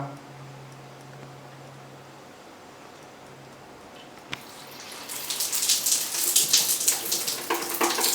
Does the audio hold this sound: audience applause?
no